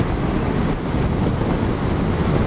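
Strong wind roars across the microphone during a motorcycle ride, a steady, loud rushing buffet with no break.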